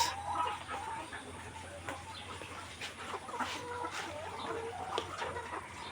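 Layer hens cluck steadily on a poultry farm, many birds overlapping in a continuous close chatter with no one speaking.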